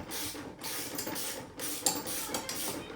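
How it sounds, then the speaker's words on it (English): A ratchet driving a 1/2 inch socket on a long extension tightens tool box mounting bolts on a Kioti CK3510SE tractor, making a steady mechanical clicking and whirring up close, with a few brief pauses. "I just got a 1/2 inch socket with a long extension going into the inside. And then I'm just gonna tighten these down."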